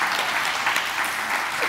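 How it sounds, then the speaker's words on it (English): Audience applause at a church water communion and blessing of the backpacks service, a steady dense wash of clapping from a congregation filling the short stretch at even loudness. "I feel like we can give her another round of applause"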